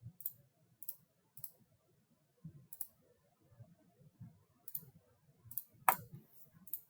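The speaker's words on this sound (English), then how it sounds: "And just quickly clicking." Computer mouse clicking in quick, scattered bursts of sharp, light clicks at close range while working through drop-down lists in an Excel spreadsheet, over a low background murmur.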